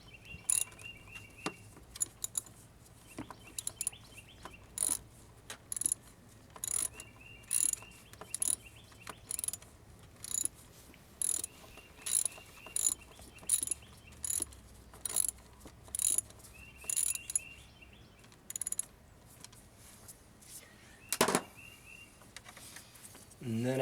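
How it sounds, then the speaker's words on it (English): A socket wrench ratchets a screw tight on a diesel Mercedes Sprinter van's EGR valve, giving a series of short, sharp, close clicking bursts at a regular pace with brief pauses between strokes. "you're going to need to grab your socket wrench again"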